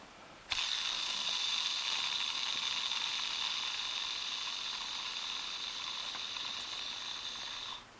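An Abu 6500 baitcasting reel spool spins freely with the magnetic brake all the way out, starting abruptly and holding a steady, fine whirring buzz that fades slightly before stopping.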